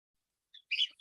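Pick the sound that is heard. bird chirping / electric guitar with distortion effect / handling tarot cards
bird chirping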